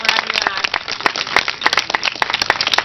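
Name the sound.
audience applause for an award winner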